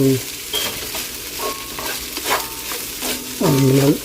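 Chopped onions and green onions fry in a pan for fried rice, a steady sizzle broken by clinks and scrapes of stirring, close and fairly loud, with no talking.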